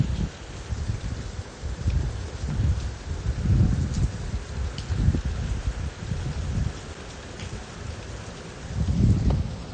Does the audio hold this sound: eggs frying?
no